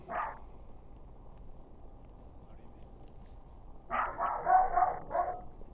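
A dog barks in a Victorian-era setting from The Order: 1886, one short yap followed by a louder cluster of barks a few seconds later over a quiet ambient background.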